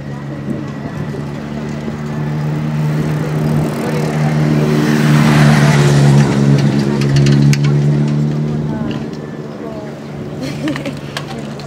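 Cars pass along a road at the Lido di Venezia during a Sunday bicycle ride, one vehicle swelling from a distance to a loud close rush and fading away, with a steady low hum and people talking over it.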